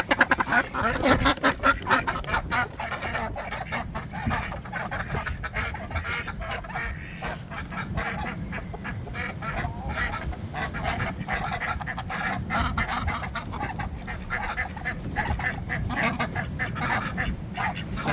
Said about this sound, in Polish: Masz kaczki i brachemki, otwórz.